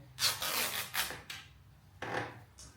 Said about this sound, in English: So you just want to tear it all the way down to the other side.